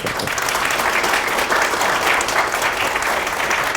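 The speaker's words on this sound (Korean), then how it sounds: "박수 한번 쳐봐" An audience at a lecture breaks into sustained applause, thick and uniform throughout, a close crowd of hands clapping with no talk on top.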